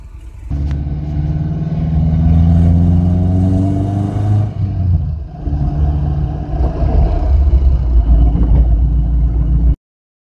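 A Nissan 240SX running after a manual transmission swap, its engine revving up with rising pitch and then holding at a loud, steady, close drone.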